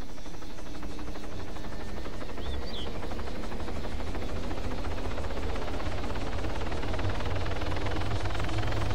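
A helicopter in the survival video game Exile roars steadily and loudly throughout, its dense rotor and engine drone filling the whole stretch without pause.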